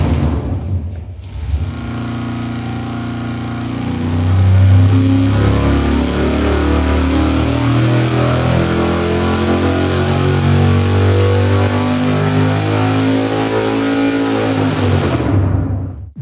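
V8 engine on a dynamometer pull, running loud and continuous for about fifteen seconds, its rumbling note rising and holding steady at high revs before cutting off abruptly, with no talking.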